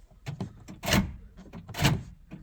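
Power door locks on a Honda Del Sol being tested after a door handle repair: two distinct mechanical clunks of the actuators cycling, with small clicks and rattles around them, close by.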